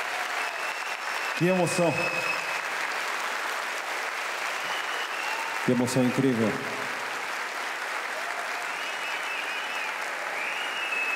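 Applause from a standing concert audience at a year-end tribute show, steady and sustained throughout, with someone speaking briefly over it twice.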